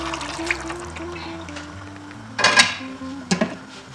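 Soft kitchen clatter and a low background hiss, then two sharp bursts of sizzling as water hits a hot pan of osso buco.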